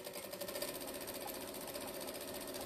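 A sewing machine runs continuously, stitching jelly roll fabric strips together in one long line for a strip tote, with a steady, close, rapid mechanical whir throughout.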